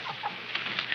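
Several chickens cluck and squawk softly in short bursts nearby, with a steady background hiss and no other voices.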